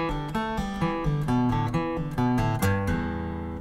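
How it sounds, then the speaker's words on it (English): Acoustic guitar playing a quick pull-off run, with notes on the E pentatonic scale flowing into one another as fingers pull off the strings, close and steady for a few seconds with no speech. "Let's jump into the pull-off technique."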